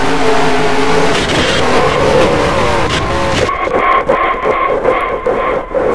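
Stock cars pile into a four-car wreck in a NASCAR video game, engines roaring loud and close before a sharp cut to scraping, skidding and crunching impacts toward the end.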